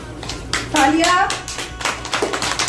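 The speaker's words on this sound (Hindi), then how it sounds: "जवेरिया नदी, तालियां भी साथ साथ।" Children and adults clap together at a Pakistan Independence Day children's party competition, a loose burst of handclaps with a voice and chatter mixed in over about three seconds.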